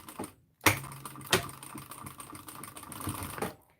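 A domestic sewing machine runs in a home sewing room, with a short burst followed by a steady motor whir and clattering stitch rhythm lasting about three seconds before stopping, close and fairly quiet, no talk.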